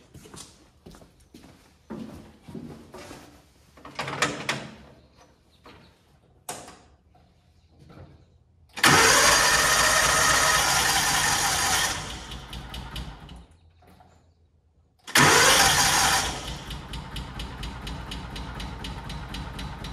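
A Kawasaki Mule 550 utility vehicle, a free barn find, has its starter cranked in several short clicking, whirring bursts before the engine catches. It then settles into a loud, steady, slow idle, is cut, and is restarted.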